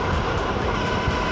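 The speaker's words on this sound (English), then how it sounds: "the motor sound, the engine sound is a bit different" Suzuki V-Strom 650 (DL 650) adventure motorcycle engine while riding, a steady buzzing drone with constant loudness, heard close and alone for a brief moment.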